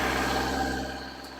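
A BMW M1000XR motorcycle engine runs steadily after a push-button start, a loud, even idle with a low rumbling drone that eases off slightly toward the end.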